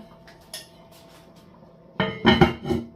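A metal lid set onto a pot of simmering water on a home cooktop, arriving as a cluster of close clattering clinks and rattles after a quiet stretch with a faint earlier tap.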